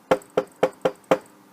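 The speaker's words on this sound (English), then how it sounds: "Principal Lipid's secretary knocked on his door." Five firm knocks land on a door in a steady, evenly spaced rhythm, each one a sharp, close, hollow rap with a short ring, heard clearly with no talk.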